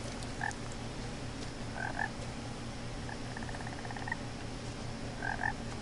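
Several frog croaks and short trills sound at intervals in What Remains of Edith Finch, moderately near over a constant low background drone, with no talking.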